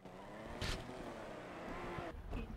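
A car driving in the FiveM role-play mod of GTA V, engine hum running steadily throughout with a brief bright burst partway in and a rise toward the end, faint background sound and no clear speech.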